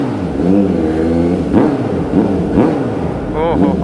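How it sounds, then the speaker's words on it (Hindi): A Kawasaki Z900 motorcycle engine revs up several times in quick bursts, rising and falling close by, with the idle rumble continuing between revs. "तो यहाँ रेव करना तो बनता है।"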